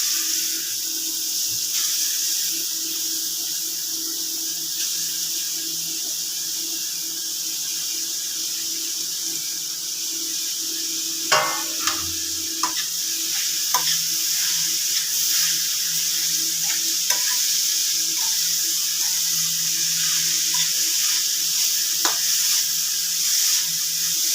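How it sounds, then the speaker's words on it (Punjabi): Grated carrots fry in hot ghee with a continuous steady sizzle, broken midway by a few brief clicks and scraping knocks from stirring. "ਹੁਣ ਆਪਾਂ ਇਹਦੇ ਵਿੱਚ ਜਿਹੜੀਆਂ ਆਪਣੀਆਂ ਗਾਜਰਾਂ ਕੱਦੂਕਸ ਕੀਤੀਆਂ ਹੋਈਆਂ ਇਹ ਪਾ ਦਾਂਗੇ"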